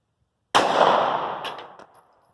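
A single 9mm U.S. Cartridge 124 grain Nosler JHP round fired into a ballistic gel block: one sharp, loud, close crack that rings out and decays over about a second and a half, with silence before it.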